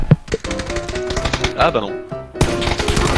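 Video game gunfire, rapid bursts of close, loud shots in quick rattling sequences, mixed with excited talking and game sounds.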